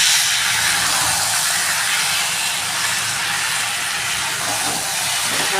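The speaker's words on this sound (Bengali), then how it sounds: "দেখো চিকেনে কষছে, দেখো তেল বেরোচ্ছে, তেল ছাড়ছে।" Chicken frying in oil with tomato sauce hisses and sizzles loudly and continuously, a broad bright spray of crackling with no pauses.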